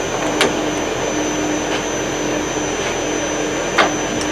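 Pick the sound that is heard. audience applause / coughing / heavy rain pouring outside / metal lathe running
metal lathe running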